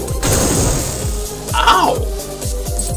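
Enemy self-destructing in the video game Epic Battle Fantasy 5, a loud crashing burst with rhythmic thumping impacts and a rising shimmer, layered over game music while a voice talks over it.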